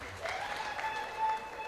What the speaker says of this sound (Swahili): Tumpigie Mheshimiwa Rais makofi.